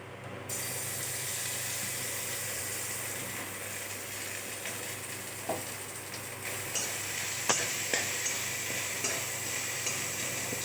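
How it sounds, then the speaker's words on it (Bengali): Ginger fries in oil in a wok for cholar dal, a steady close sizzle that runs throughout, with occasional sharp clicks and scrapes of a spatula against the pan and no talking. "ওর মধ্যে আদাটা ভেজে এই ছোলার ডালের মধ্যে দিয়ে দেবো"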